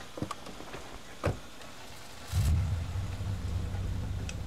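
A few soft clicks and thuds, then a car engine starts up in a zombie video game, State of Decay, and settles into a low, steady idle rumble close by.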